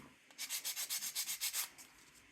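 A nail file rasps along the sides of a gel nail in about ten quick, even back-and-forth strokes. The scratchy sound is close and alone, then trails off into quiet.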